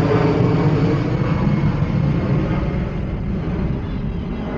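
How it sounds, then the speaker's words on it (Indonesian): Airplane passing overhead outdoors, a loud steady broadband roar that holds constant through the whole stretch with no talk over it. "Pesawat lewat dulu ya biar jelas suara saya"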